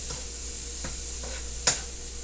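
Shrimp frying in a pan, fully cooked: a steady close sizzle with a few soft stirring scrapes and one sharper clack near the end.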